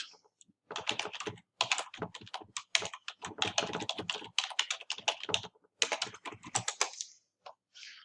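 Steady typing on a computer keyboard: rapid, close keystrokes in bursts separated by brief pauses, with no talking.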